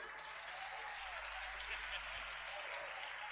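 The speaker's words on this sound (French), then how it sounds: "Moi-même, j'applaudis parce qu'elles ont tout dit." A church gathering applauds the Groupe Marie announcement for the AOC 2022 celebration, with a steady, even wash of clapping from many hands, heard from a distance and holding without a break for the whole stretch.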